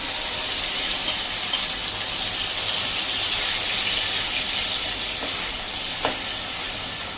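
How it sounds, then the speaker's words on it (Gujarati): Mango pulp sizzles steadily in hot oil with asafoetida in a pan, a continuous loud hiss with a faint clink late on and no voices. "જે આ પલ્પ બનાવ્યો છે કેરીનો એ આપણે આમાં નાખીને અને એને સાંતળી લેશું"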